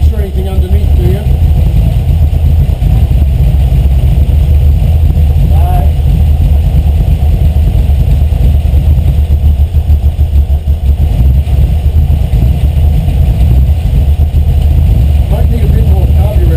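A 5.0 V8 engine swapped into a Miata idles on its first start with the idle turned low, a loud, constant, rumbling drone close by for the whole stretch, with voices faintly under it.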